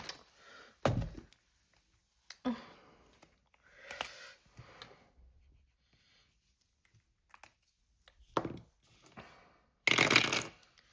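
Two six-sided dice clatter and tumble on a tabletop in several separate short bursts, each a quick rattle followed by quiet, recorded close and alone.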